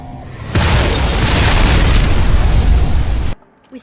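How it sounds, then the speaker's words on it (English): A huge orbital laser bombardment explosion at Nellis Air Force Base in Fallout: New Vegas, a sudden loud, sustained roaring blast lasting about three seconds before cutting off abruptly to near silence. "Orbital laser bombardment will commence in T-minus 5, 4,"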